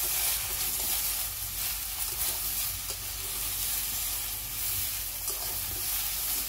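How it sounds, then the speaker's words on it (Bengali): A full wok of vegetables, Malabar spinach and pumpkin with salt, sautés with a steady, close sizzle and hiss, broken by occasional scraping stirs. "ভালো করে আবার একটু কষে নেব"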